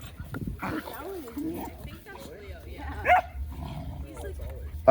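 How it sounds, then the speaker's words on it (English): A pet dog named Ollie gives a few short, small barks at close range, mixed in among people talking and encouraging the dog during a training session. "Ollie's doing a little barking."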